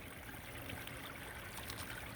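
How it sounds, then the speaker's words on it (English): A small stream of water trickles between rocks outdoors, a quiet, steady babbling flow with faint gurgles throughout, heard alone without talk. "you can see the water comes down from here. It comes between these two rocks"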